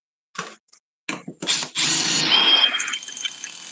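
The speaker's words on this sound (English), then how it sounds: "I'm going to show you why I use an impact" Impact driver boring through wood: a few short bursts, then a sustained loud whirring and rattling run that eases off near the end as the bit breaks through.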